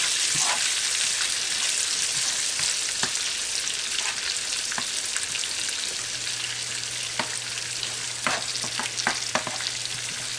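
Garlic sautés in a bubbling butter sauce alongside seared lobster, a steady, close crackling sizzle with scattered pops and light utensil taps, no one speaking.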